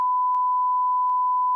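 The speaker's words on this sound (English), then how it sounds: "Yeah, I beeped that out." Censor beep covering a spoken phone number: a single steady pure tone held unbroken for about a second and a half, loud and alone, with faint clicks at its edges.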